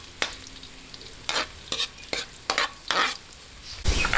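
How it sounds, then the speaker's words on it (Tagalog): Garlic sautés in a pan for pansit canton, a soft sizzle broken by several distinct scraping stirs of a utensil, ending in a louder burst of frying. "Lahin lang po natin ang bawang at hintayin din po natin light brown ng bahagya"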